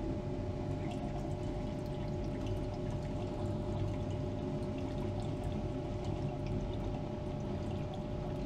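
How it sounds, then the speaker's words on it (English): Ammonium chloride poured into a platinum solution during refining: a steady, low, continuous pouring and trickling rush that holds at an even level throughout, with no talk. "We're going to add the ammonium chloride right on in."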